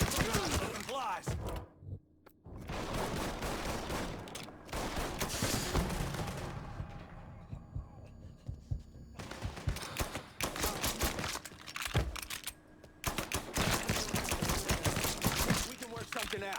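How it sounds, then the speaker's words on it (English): Gunfire in the video game Mafia 3, repeated bursts of automatic fire separated by short gaps, loud and close, with shouted voices between volleys. "Firing! Firing now!"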